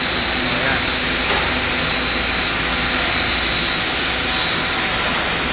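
CNC machining equipment running on a factory floor in Yangsan, Korea, including a nut machining line: a loud, steady broadband industrial roar with a constant high whine, continuous throughout with no pauses.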